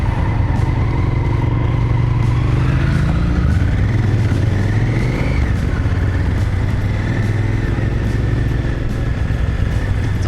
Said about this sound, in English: Fellow biker of a KTM, sweet bike.